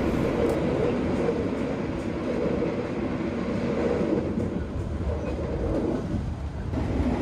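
The Mataram passenger train in Indonesia rolls steadily along the rails at speed, a continuous loud rumble with faint rhythmic clatter of wheels, no voices.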